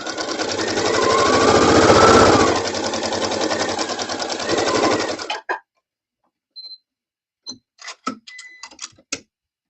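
A sewing machine stitches steadily around the edges of fabric for about five seconds, a loud continuous mechanical whir, then stops, leaving scattered light clicks and taps.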